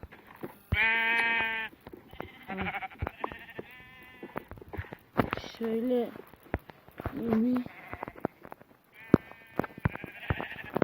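In a survival video game, sheep bleat again and again amid scattered clicks and steps, with a person talking in between.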